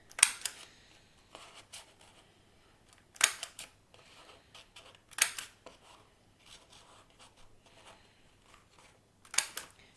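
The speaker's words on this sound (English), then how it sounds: "you do need a hole punch, and you need to make 6 holes in each third of your Christmas tree" A hole punch clicks sharply through a paper plate as holes are made for a Christmas tree craft, with four or five crisp, close snaps spaced a couple of seconds apart against quiet handling noise.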